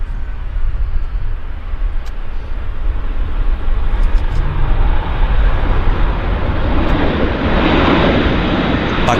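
A fixed-wing airliner lands at Vancouver airport through wildfire smoke, a loud continuous roar of engine and rushing air that swells and stays close. A voice is heard faintly beneath it.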